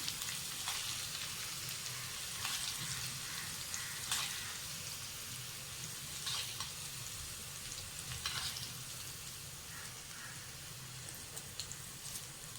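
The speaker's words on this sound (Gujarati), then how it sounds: "હવે આપણે ઢોકળા ઉપર ચમચીથી વઘાર નાખી દઈશું આ રીતના." Hot tempering spooned over freshly steamed semolina dhokla, a steady soft sizzle and crackle with brief louder spatters as each spoonful lands, close and quiet with no talking.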